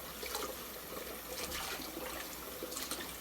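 Collard greens being swished and washed in a sink of water, a steady, close wash of splashing and trickling that runs throughout with no talking.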